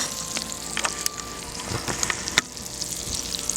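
Butter melts over a gas flame in a pan for a bourbon peach foster, giving a steady, close sizzle dotted with small crackles and pops.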